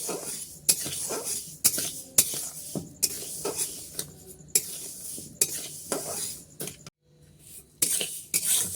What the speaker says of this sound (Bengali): তো মুগের ডালটা একটু ভাজা ভাজা করে নেবো